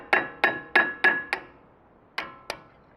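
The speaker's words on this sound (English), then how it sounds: "So I'm just going to tap them out." Seven sharp hammer taps knock out the front brake pad retaining pins on a Camaro SS: five quick metallic strikes in a steady rhythm, a pause, then two more, close and loud with no talk.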